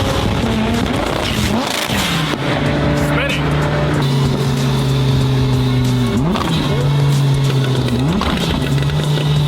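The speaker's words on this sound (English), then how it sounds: "Those downshifts are wild." Gen 4 Dodge Viper with a dual-clutch transmission and a 1200 hp build, loud engine holding steady tones then snapping through quick downshifts with sharp pitch jumps, close and constant, with voices underneath.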